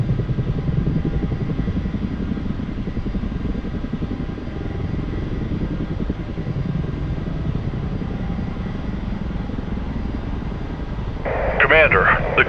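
A UH-1H helicopter in a flight simulator whines and hums as its engine starts, a steady low drone building slightly, with a burst of higher-pitched rotor and turbine noise near the end.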